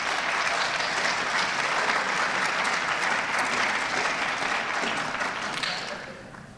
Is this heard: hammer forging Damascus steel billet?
no